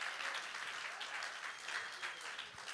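A church congregation claps during a sermon, soft and distant, a steady spread of many hands with a few sharper accents.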